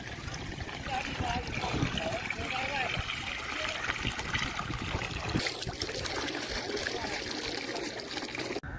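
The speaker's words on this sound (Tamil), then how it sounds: "கடல் தண்ணிலாம் கழுவ போகிறோம்" Crabs, prawns and squid are rinsed in sea water under hot sun in Jaffna, giving steady splashing and trickling throughout, with a voice talking over the water sounds.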